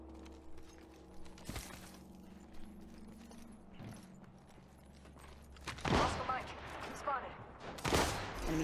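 Gunfire in the battle game Apex Legends: a few sharp, loud shots spaced apart, with heavier bursts toward the end, over a low background hum and occasional voices.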